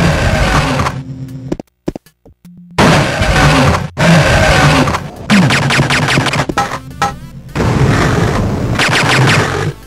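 Enemy gunfire from the Game Boy Advance Duke Nukem game, loud crunchy bursts of rapid shots repeating in clusters with brief gaps between them.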